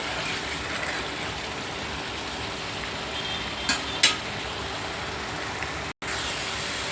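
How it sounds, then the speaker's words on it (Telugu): Onion paste frying in a pan for a Telugu raw fish curry gives a steady, close hiss of sizzling oil, broken by two brief clinks of a utensil and a momentary dropout near the end. "ఉల్లిపాయ ముద్ద చాలా బాగా వేయించానండి"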